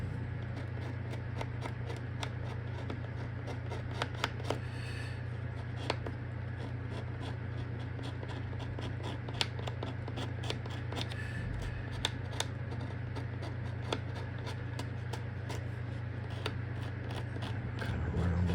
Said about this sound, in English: I had a scraper here. I'll get the pencil marks off the top of that.